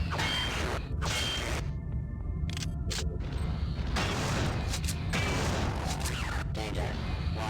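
Wrench strikes on an object in the video game System Shock 2, repeated clanging metallic hits amid dense game noise and mechanical hum, with a voice speaking over parts.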